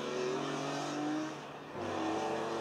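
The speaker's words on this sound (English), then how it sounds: "This is, of course, an M3 CSL." A BMW M3 CSL E46 engine pulling away, a steady strong drone rising in pitch, easing briefly mid-shift, then climbing again, close and continuous with no talk.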